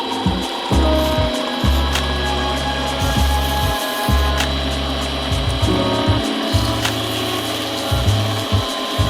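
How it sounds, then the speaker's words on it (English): A tiny gold coin ring is sanded down and polished by hand, giving a steady, close, rhythmic rubbing and grinding with repeated strokes and short pauses, and no talking. "now what we need to do is sand this thing down and polish it out"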